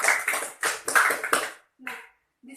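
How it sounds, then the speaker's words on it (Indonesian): A small group of junior high students in a classroom claps for their classmates: several sharp, close claps in quick rhythmic bursts lasting over a second, then falling silent, with a brief voice at the end. "berikan tepuk tangan kepada mereka"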